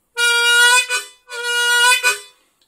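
A harmonica plays two long, loud draw notes on the fourth hole, each bent deep with a 'wata' mouth shape, sustained and close and played alone.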